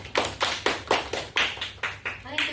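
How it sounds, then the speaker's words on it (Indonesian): A classroom group claps for peer-teaching group 2 in a rhythmic, near-unison beat of about ten sharp, evenly spaced claps, close by, with no talking over it. "silakan beri tepuk tangan pada kelompok 2"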